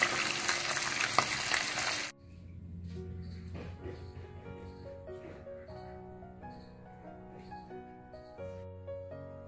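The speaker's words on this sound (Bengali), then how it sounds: "বাকি মাছগুলো ভেজে নিচ্ছি।" Pabda fish fry in hot oil with a loud, dense sizzle for about two seconds. The frying then stops abruptly and soft background music follows.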